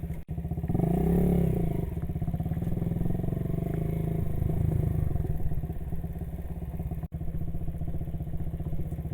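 A Janus Halcyon 250 motorcycle idles on a wooded mountain trail near the Appalachian Trail at Salt Log Gap. Its steady, close, throbbing engine note runs throughout, with two brief dropouts.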